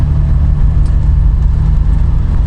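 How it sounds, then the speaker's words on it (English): A 1967 Triumph Vitesse 2 Litre drives along and shifts into overdrive, its engine giving a loud, steady low drone with a deep rumble and faint road noise, with no talk. "Going into overdrive,"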